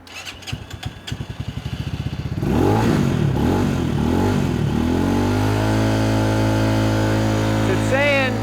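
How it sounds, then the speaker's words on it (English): A Venom Motorsports 250cc superbike engine idles with a rapid, lumpy putter, then is revved up hard into a loud, sustained roar with rising and falling pitch, close to the microphone. "When I rev this up"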